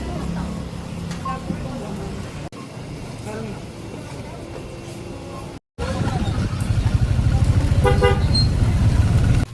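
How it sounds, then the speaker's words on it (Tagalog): Busy street noise with car horns tooting now and then and motorcycle engines rumbling past, while a person talks over it. "ang ingay na naman dito, panay ang busina, panay ang motor"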